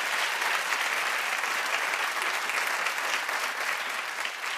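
Dense, sustained applause from a studio talk-show audience fills the whole stretch at an even, loud level without breaks.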